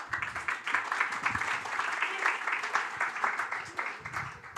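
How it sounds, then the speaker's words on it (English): A room full of conference attendees at a forum gives a warm round of applause, dense and steady clapping of moderate loudness lasting the whole stretch. "Once again, ladies and gentlemen, please give a big applause for Mr. Kano."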